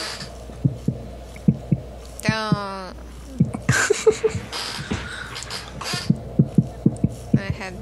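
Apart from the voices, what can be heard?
heartbeat sound in Slenderman video game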